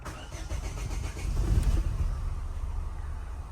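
An Opel Vectra C petrol engine is started after a fuel pressure pump replacement: a brief cranking rattle, then the engine catches and settles into a steady idle, close and alone.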